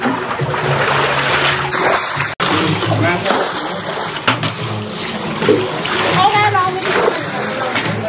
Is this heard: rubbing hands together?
no